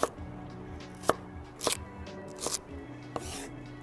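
A knife chops celery on a cutting board, sharp separate thunks landing at an irregular pace, about half a dozen cuts in a few seconds, close and fairly quiet with no talking.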